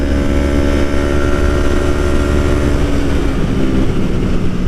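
A motorcycle engine with a flashed ECU roars loudly and steadily up close in sixth gear, its pitch rising slightly as it accelerates.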